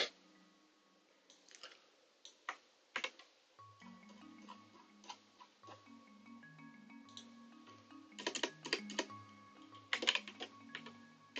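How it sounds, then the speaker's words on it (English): Someone types on a computer keyboard, faint and close, with irregular clusters of key clicks over a low hum and soft background tones. The clicking grows busier toward the end. "Feel like my typing's gotten a bit slower lately."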